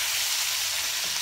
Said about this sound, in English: So give this all a little stir,